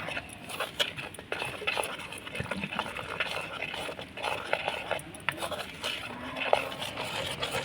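Gram flour batter stirred with water in a bowl, with soft wet scraping and clinks of a spoon against the dish, repeated irregularly at close range while a voice talks quietly.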